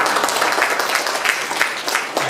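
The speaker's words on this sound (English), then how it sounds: "Give yourself a big round of applause." Applause from an audience at a company academy gathering, a steady wash of many hands clapping at moderate loudness with no talk over it.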